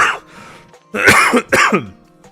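A few close coughs: one brief hack, a pause, then two loud harsh bursts in quick succession.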